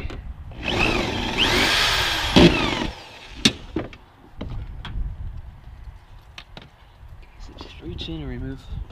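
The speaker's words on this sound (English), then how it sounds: "you can go ahead and use your drill and remove that." A cordless power drill whirs in a long loud burst and then in short spurts while removing a headlight bolt on a BMW F30 328i, with clicks and handling noises between runs.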